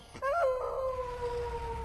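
A neighbour's dog in an animated film trailer lets out a single drawn-out howl, rising sharply and then holding a steady, fairly close wail over a soft background.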